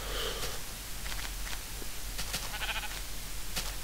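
Faint, intermittent sheep bleats from Minecraft over a steady low hum, with soft snuffling sounds between them.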